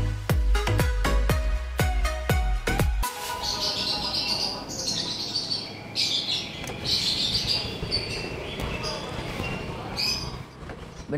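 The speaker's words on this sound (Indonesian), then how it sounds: "Cuman ini rumah sih yang suara burungnya berisik banget." Many caged birds at a bird-keeping house chirping and tweeting continuously, a dense busy chatter of overlapping calls, preceded by a few seconds of sharp repeated knocks.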